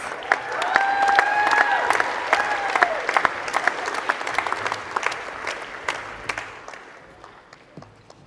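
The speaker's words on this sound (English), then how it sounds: "You can have a slight pause from clapping" A graduation audience applauds as names are read, sustained clapping and crowd noise that is strongest early, then thins out into scattered individual claps and fades toward the end.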